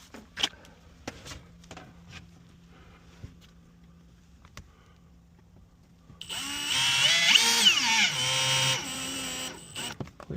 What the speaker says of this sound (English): So I'll attach a screw in the top right corner.